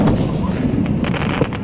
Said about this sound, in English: Fireworks bursting in the sky over Gardendale last night.